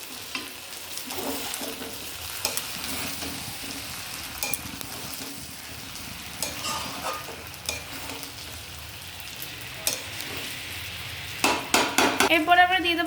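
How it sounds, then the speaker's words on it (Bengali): A banana flower (mocha) curry frying in a pan and being stirred, with a continuous sizzle, scattered scrapes and knocks of a spoon on metal, and a burst of louder rapid clattering near the end. "তো কিছুক্ষণ ঢাকা দেওয়ার পরে আমরা আবার নাড়িয়ে নেব।"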